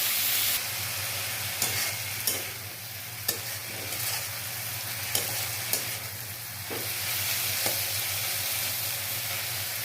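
Flowers frying in a pan are stirred steadily, a continuous close sizzle with a low hum beneath and periodic scraping clacks of the utensil against the pan.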